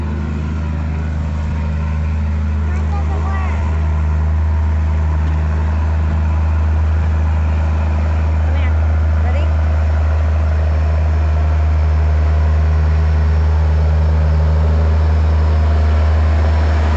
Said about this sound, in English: There goes the tractor.